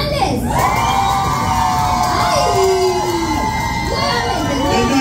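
Loud crowd at a Reina Drag 2022 show cheering and shouting for a drag contestant, with high whoops and screams swelling over a continuous roar of voices; no clapping stands out clearly.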